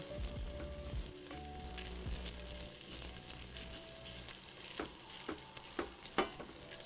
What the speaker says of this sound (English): now we know that we're toasting the rice when it starts to go transparent